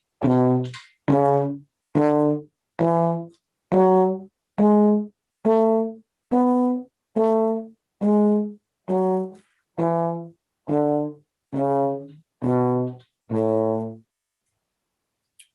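A trombone plays a scale extended up to the ninth as a series of about fourteen separate sustained notes, each clearly tongued with short gaps between, close and full-toned. No talking.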